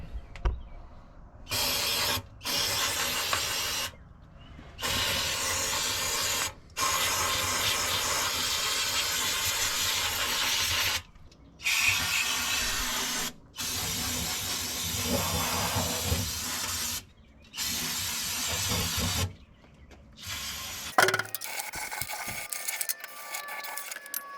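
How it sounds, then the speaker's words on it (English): Brake parts cleaner sprayed from an aerosol can onto a 1948 Ford 8N tractor: loud, close hissing bursts lasting several seconds each, separated by brief pauses, ending with a short clatter. "spray a whole bunch of brake parts cleaner everywhere that I can get it in there"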